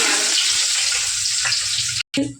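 Fresh green coriander and curry leaves crackle in hot oil, a steady bright sizzle that runs continuously and close, briefly cutting out near the end before resuming.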